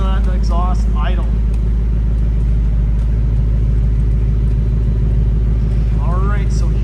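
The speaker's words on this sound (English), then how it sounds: "listen to that exhaust idle." A 2021 Ford Mustang GT Premium Convertible with the 5.0L V8 and active exhaust idles in a steady, deep, close rumble, with a voice talking briefly at the start and near the end.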